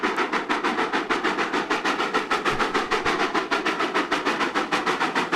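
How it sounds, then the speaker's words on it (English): A steam engine train rolls past with a steady, rapid clickety-clack of wheels over rail joints, loud and close, with no voices over it. "I want to show you the train. It's a steam engine."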